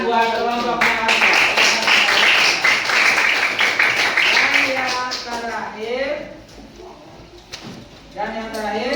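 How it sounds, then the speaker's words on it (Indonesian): A classroom of students claps for a student group, a dense burst of applause lasting several seconds before fading, with a teacher's voice speaking over it and continuing after. "beri tepuk tangan buat kelompok yang ada"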